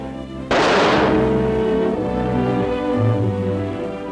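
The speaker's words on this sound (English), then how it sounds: "You can shoot a bullet into cotton and it will retain the gun barrel markings" A single loud gunshot from a handgun fired into cotton for a ballistics test, one sharp blast followed by a long ringing decay, with no other sounds around it.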